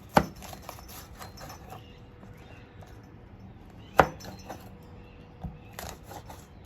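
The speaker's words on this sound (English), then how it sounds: "take your spur chilies. Cut that into nice." A knife cuts spur chilies on a board with a few sharp isolated chops, two of them clearly louder, against a quiet kitchen background.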